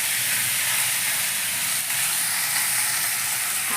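Fish goes into a hot kadai of oil with spices, potato and onion, and a dense, steady hiss of frying holds for several seconds, close and loud, with no talk.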